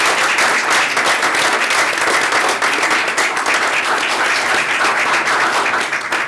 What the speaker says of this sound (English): So big applause for all the student athletes.